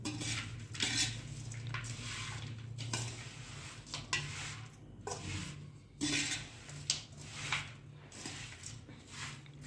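Spiced potato chivda with red chilli powder and green chillies is tossed and stirred in a pan, with a spoon scraping and clattering against the metal in irregular bursts, close and without speech.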